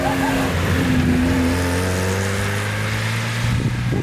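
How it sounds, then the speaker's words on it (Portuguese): An old Chevette car drifting, with a loud, close engine revving and droning steadily throughout as the pitch wavers with the slide. "nossa, olha o drift!"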